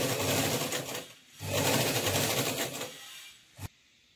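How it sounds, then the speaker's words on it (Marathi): A sewing machine stitches a kurti neckline through saree fabric backed with lining: two close, steady whirring runs with a brief pause between, ending with a sharp click. "आता हा गळा शिवून घेणार आहे"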